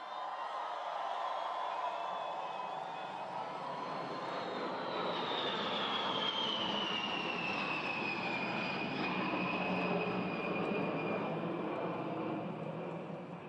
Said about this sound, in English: B-52. They can fly from here to the other side of the world and back from missions from North and South Dakota.